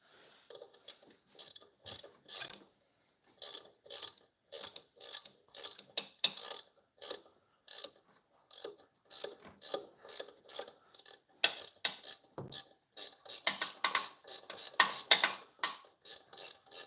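A ratchet tightens bolts with a 13 mm socket during a Ford Focus ST EcoBoost timing chain replacement. Quick bursts of close, crisp clicking repeat steadily throughout, growing denser and louder toward the end, with no voices.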